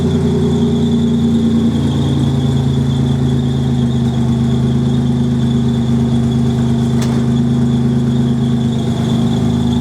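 A rebuilt 1987 Buick engine runs loud and close, holding a steady idle with a strong squealing whine and low drone, the pitch rising slightly as it is revved a little.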